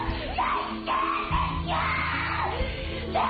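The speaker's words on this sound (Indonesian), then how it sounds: "Melihat hal itu, Nami berteriak dengan histerisnya." A woman in a film screams hysterically in long, strained, wavering cries that break and resume several times in close succession, loud and raw.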